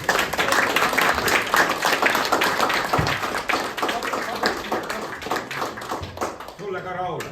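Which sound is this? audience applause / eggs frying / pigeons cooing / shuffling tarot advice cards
audience applause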